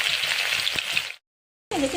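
Whole cloves, cardamom, cinnamon and bay leaves sizzle in hot oil, a steady close frying hiss with a few soft clicks, cutting out briefly to silence before resuming.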